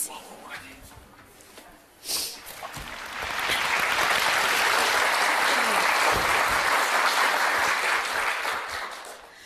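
Studio audience applause on a Russian TV show, a brief burst of clapping then a sustained, loud wave of clapping from a crowd lasting several seconds before easing off slightly.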